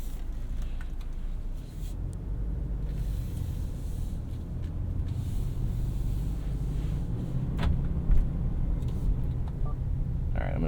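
A 2023 Subaru Forester Wilderness drives along, with a steady low road and engine rumble heard from inside the cabin and a few faint clicks and rustles over it.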